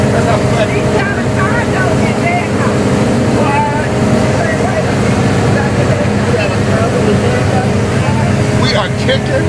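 A yacht's engine holds a steady drone at around 3,000 RPM while underway, a constant loud rumble mixed with wind and water rush, with faint voices in the background.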